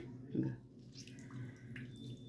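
Quiet water drips and trickles close by as grated radish is squeezed by hand, with a short splash near the start and soft wet sounds after.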